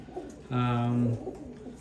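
Racing homer pigeons in a loft give one loud, sustained coo for under a second, close by, with quiet room noise before and after.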